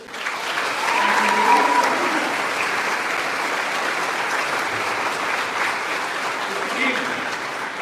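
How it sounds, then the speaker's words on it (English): A large commencement audience at an international high school graduation applauds steadily and loudly, a dense sustained wash of clapping that swells slightly early on and holds evenly, with faint voices mixed in. "Give them an round of applause."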